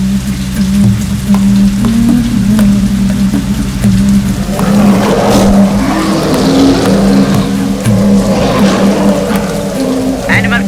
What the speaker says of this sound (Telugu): సార్ ఇక్కడ ఒకటే వర్షం పడుతోంది సార్.